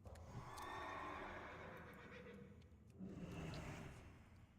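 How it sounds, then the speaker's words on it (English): A horse mount in World of Warcraft gives a whinny, then another neigh follows near the end, with soft hoof clip-clops and game ambience underneath; fairly quiet overall. "mount your horse, and then jump onto the other wall."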